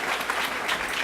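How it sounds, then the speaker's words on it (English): An audience gives a steady round of applause for Sheriff Dart at a Cook County justice event, a dense, close wash of clapping with no talking. "Round of applause, please."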